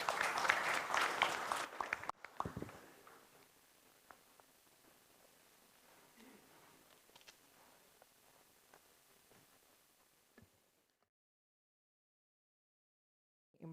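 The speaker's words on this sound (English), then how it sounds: "So let's once again applaud for the team." Audience applause after a team presentation at a business school event, a loud burst of clapping for about two seconds that cuts off, followed by faint room rustle and scattered noise fading into silence.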